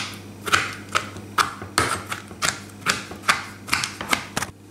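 Knife chopping William pears in syrup into small pieces on a board, a steady rhythm of about a dozen crisp, close taps, evenly spaced and alone over a low hum.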